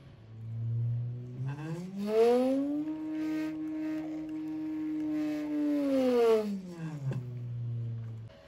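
A large electric motor on a variable drive in a DIY breath-controlled ventilator whines up to 200 hertz, holds a steady humming pitch, then winds back down, close and moderately loud.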